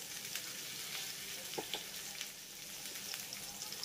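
Drumstick pieces and potatoes frying in a pan with turmeric and salt, a continuous close sizzle with scraping stir strokes and a few soft knocks of the utensil, no voices.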